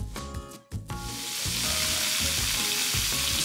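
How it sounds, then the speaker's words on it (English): Bacon and onion dropped into a pan of hot olive oil for beef stroganoff, a brief clatter and a short gap, then a loud, steady sizzle that builds and holds close by, with no talk. "now I'm going to put the bacon into there as well as the onion."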